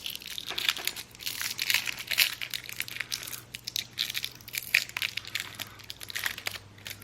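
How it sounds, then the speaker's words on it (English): Old plastic candy wrapper from a 1942 US Army field ration cracking and crumpling apart by hand, a close, busy run of brittle crinkles and snaps lasting several seconds, with no talking. "that plastic just breaks apart easily"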